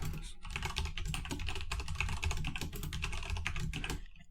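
Fingers type steadily on a computer keyboard, a fast, close run of clicking keystrokes with no pauses and no speech over it.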